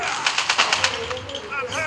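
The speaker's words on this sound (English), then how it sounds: "so just my favorite pistol" Rapid pistol gunfire in the mobile shooter game Call of Duty Mobile, a quick string of sharp shots followed by a few scattered pops.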